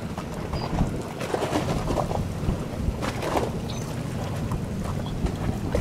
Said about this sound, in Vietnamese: nhưng mà âm thanh của những cái tiếng động cơ